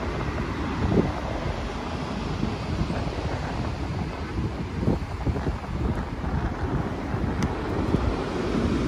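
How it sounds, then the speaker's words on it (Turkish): Rough sea waves break on a beach under strong gusting wind that buffets the microphone, a continuous roaring wash with no voices. "Acayip dalgalı bugün."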